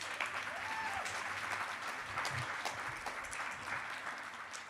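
Steady, dense applause fills an auditorium at WikiConference North America 2025 as the crowd honors the keynote speakers, many hands clapping evenly throughout at moderate distance, with no talk over it.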